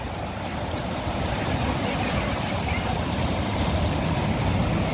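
Ocean waves washing up on a California beach with tide pools, a broad continuous rushing wash of surf that swells slightly louder partway through, close and steady with no talking.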